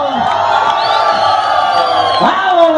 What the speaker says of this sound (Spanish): Suelten los aplausos para mis compadres de Yajaló.